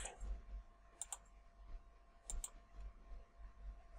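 Faint mouse clicks in Photoshop, heard as two close double-click pairs spaced apart over a low room hum.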